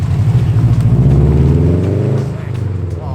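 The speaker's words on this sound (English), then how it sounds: "Do like the sound of those old Scoobies" Old Subaru Impreza engine revving close by with a deep, throbbing burble that swells and then eases off.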